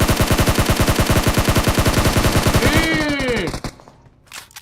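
Rapid automatic gunfire in PUBG Mobile, a loud, steady burst of evenly spaced shots that runs for nearly three seconds, then stops abruptly and fades into quiet.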